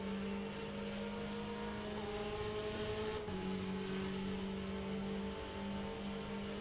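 Porsche GTE race car engine in the Le Mans Ultimate racing game at Monza, a loud, steady high-revving drone held alone, with a brief gear-change dip midway.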